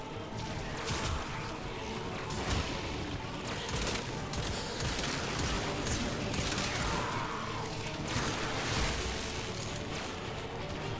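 Rapid pistol fire in the Warframe video game during a Steel Path fight, a continuous loud barrage of shots and impact crashes with mechanical clatter, no talk.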